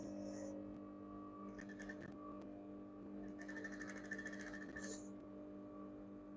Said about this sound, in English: I just want to stitch it fast so that I can turn this machine off.